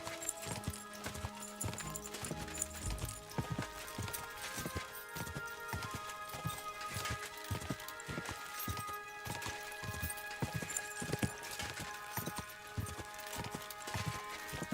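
Horse galloping in Kingdom Come: Deliverance 2, a fast, steady, regular clip-clop of hooves that repeats clearly all the way through over a faint game background, with no talking.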